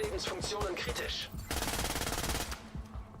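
Gunfire in the shooter game The Division 2, a quick burst of rapid shots followed by a dense stretch of firing, with voices talking under it.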